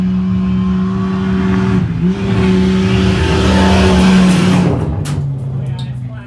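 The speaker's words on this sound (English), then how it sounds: "he looks like he's coming in on a flat tire" A stock-class race truck in a Wild West 100 off-road event comes in on a flat tire, its engine droning loud and steady with a rising surge, while an announcer talks over it.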